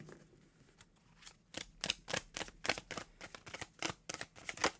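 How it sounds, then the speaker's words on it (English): Tarot cards shuffled by hand during a live reading, a quiet, close run of crisp riffling bursts growing steadily more frequent. "Unless you have a question while I'm shuffling cards"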